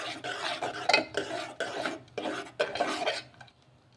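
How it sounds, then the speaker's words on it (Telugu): Grated coconut stirred into boiling water in a pot, a steady run of close rasping, scraping strokes against the pan that come in rhythmic bursts before fading out at the end. "ఇలా 1/2 కప్పు కొబ్బరిని అయితే వేసేసుకొని మొత్తం కూడాను ఒకసారి బాగా కలిపేసుకుందాము"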